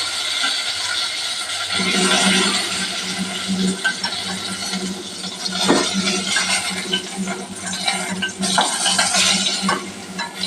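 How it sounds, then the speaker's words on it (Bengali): Panch phoron and dried red chillies crackle in hot oil for a papaya fish curry, a dense close sizzle with scattered spluttering pops and occasional utensil scrapes, no voices. "এবার আমি 5 ফোড়ন, শুকনো লঙ্কা তেলের মধ্যে ফোড়ন দিয়ে দিলাম।"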